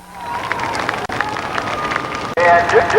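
A racetrack crowd at Columbus Motor Speedway applauds and cheers the feature race winner, a steady wash of clapping with a brief dip partway through and a louder surge near the end.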